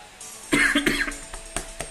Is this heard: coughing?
yes